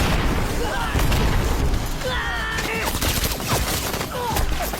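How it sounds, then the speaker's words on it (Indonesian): Action-film battle audio with bombs going off and rapid bursts of gunfire, a dense, loud barrage of booms and cracking shots running the whole time, with whistling sweeps and shouted voices mixed in. "Lanjut membalas menyerang lawan dengan melemparkan bom kembali."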